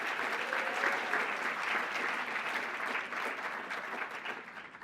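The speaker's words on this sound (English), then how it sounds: "Another round of applause for Raina." An audience at a teachers' awards ceremony applauds, giving a dense, sustained clapping from a large crowd that fills the room and slowly fades near the end.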